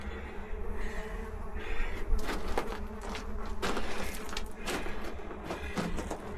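A steady, close swarm of bees buzzes continuously on the Wickenburg Mountain Buckhorn Trail, with droning hums rising and fading over one another.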